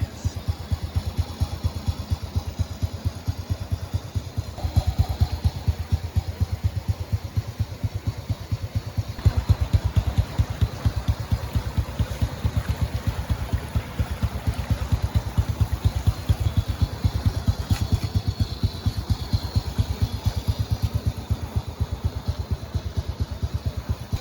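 A 2003 Honda Supra X motorcycle idles close by, its engine running with a steady, rapid low putter and light mechanical clatter throughout.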